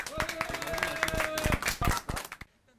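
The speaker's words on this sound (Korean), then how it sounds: "박수 한번 쳐주십시오." Scattered hand clapping from a small audience at a Korean legal talk, irregular bursts of claps mixed with voices, fading to quiet near the end.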